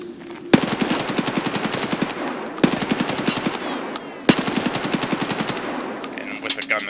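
Full-auto gunfire sprayed from a rifle in the video game Escape from Tarkov, three long rapid bursts of closely spaced shots, loud and close, separated by brief gaps.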